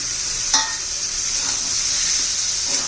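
Green peas sautéing in a simmering spinach masala, a bright continuous sizzle with a few soft scraping stirs against the pan, close and steady with no talking.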